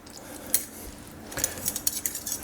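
Fork and spoon clink and scrape against a plate of lemon pasta, with a few sharp metallic taps and a cluster of quicker clinks toward the end, close and fairly quiet, no voices.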